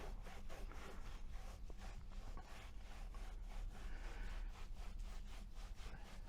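A microfiber cloth rubbed firmly over an Alcantara-wrapped steering wheel, producing rapid, rhythmic scrubbing strokes that sound like quick back-and-forth brushing, steady and close throughout, with no voices.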